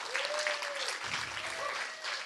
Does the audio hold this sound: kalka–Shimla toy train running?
no